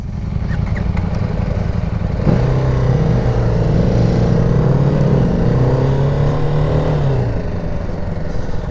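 A 2018 BMW G310R entry-level motorcycle's small single-cylinder engine idles, then revs up sharply, its pitch rising and falling through several throttle blips before settling, heard close with no talking.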